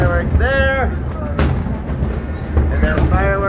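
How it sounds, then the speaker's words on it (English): Fireworks bursting over Dubai at New Year 2023, with a couple of sharp booms standing out over continuous crowd noise and voices nearby. "There's so many fireworks."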